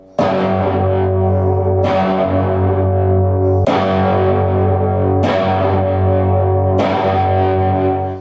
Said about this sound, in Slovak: A tu už absolútne identické nastavenie aj komba, aj chorusu s tým, že je zapojené do série